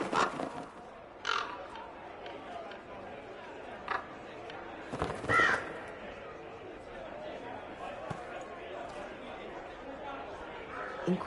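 Birds caw in short scattered bursts within the Dragon Age: Inquisition game world, sitting among background chatter and a voice speaking over them.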